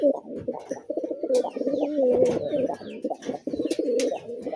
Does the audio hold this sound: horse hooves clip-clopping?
no